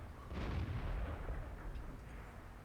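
A single heavy cannon blast from an IS-8 tank in World of Tanks booms at once and rolls into a long low rumbling decay, with no voices over it.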